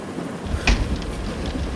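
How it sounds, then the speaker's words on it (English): Rain falling outside as a steady, hissing wash throughout, with a faint low rumble and a brief soft knock partway through, no voices. "it's raining outside right now"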